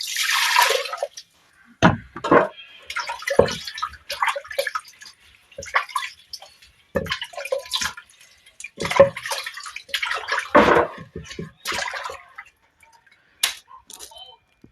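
Water splashing and dripping as a mortar is washed, irregular bursts of sloshing and trickling separated by brief quiet gaps, close to the microphone.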